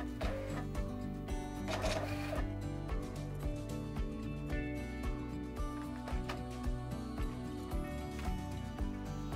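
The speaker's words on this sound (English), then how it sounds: "wait until your printer identifies your label size" An LH-560 thermal label printer whirs steadily as it feeds labels to detect their size, a continuous close mechanical hum with faint periodic clicks throughout.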